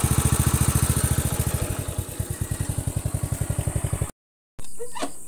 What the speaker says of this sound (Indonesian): mesin dirakit kemudian dilakukan tes engine